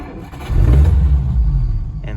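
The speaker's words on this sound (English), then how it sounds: "and the car fires right up" A 1951 Packard 300 Ultramatic sedan's engine starts close by, catching after a brief crank and settling into a loud, low rumbling idle.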